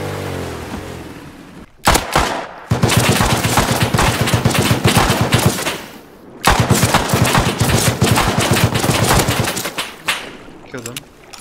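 Dense automatic gunfire in a shooting video game near an oil rig, two long loud sustained bursts separated by brief pauses, with quick scattered shots at the end.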